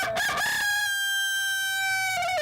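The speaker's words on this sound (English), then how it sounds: "this is a black copper run. It's a cockerel." A black copper cockerel crowing at a county fair poultry show, one long drawn-out cock-a-doodle-doo with a strong sustained pitch, loud and close, opening with a few rough rising notes before settling into the held call.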